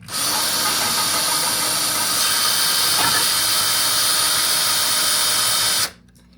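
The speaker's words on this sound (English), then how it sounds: "I'm just gonna drill the hole like last time" A power drill whines loudly and steadily for about six seconds, then cuts off abruptly into quiet.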